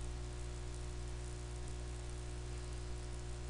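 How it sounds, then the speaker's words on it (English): Rain falling in a video game, a quiet, steady hiss of rainfall with a constant low hum beneath it and no distinct drops standing out. "Oh, it's raining."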